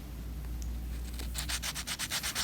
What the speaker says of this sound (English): So just about like that is all I'm going to sand it, just to kind of clean it up a little bit.